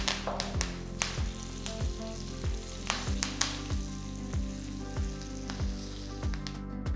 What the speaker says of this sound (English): Pour the sizzling tempering straight over the chutney and give it a good mix.